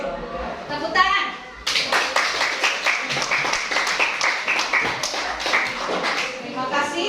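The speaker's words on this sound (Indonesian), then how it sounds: "Tepuk tangan." Classmates applaud in a school classroom, starting with a few scattered claps and then breaking into a loud, close burst of uneven clapping that continues to the end, with children's voices heard among it.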